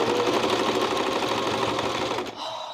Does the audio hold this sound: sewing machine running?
yes